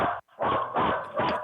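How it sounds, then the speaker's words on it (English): Dogs bark three times in quick succession, loud and close, with a short gap after the first bark. "those must be Latinx dogs"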